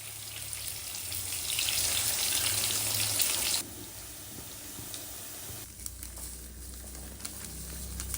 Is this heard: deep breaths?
no